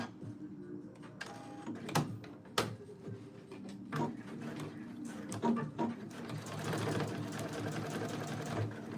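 A sewing machine runs with no thread in its needle, its fast mechanical whir rising and stopping in several bursts before settling into a steady, louder run near the close.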